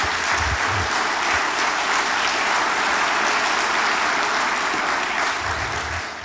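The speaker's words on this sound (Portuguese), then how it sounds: "Vamos aplaudir Jesus." A church congregation applauds during a Portuguese-language worship service, a dense, steady burst of many hands clapping at once that holds for about six seconds and thins slightly at the end.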